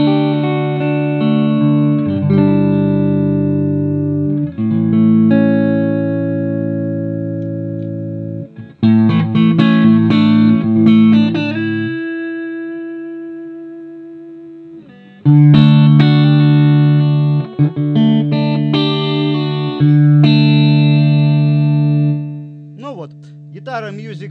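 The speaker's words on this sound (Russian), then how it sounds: "А вообще вот аккорды мне очень нравятся, как звучат." A Music Man Axis Sport electric guitar, made in the USA, plays sustained chords through effects with reverb and some distortion. Strummed chords ring out loud and close, with a few short gaps between phrases.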